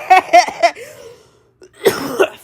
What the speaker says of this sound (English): this cough I got is wicked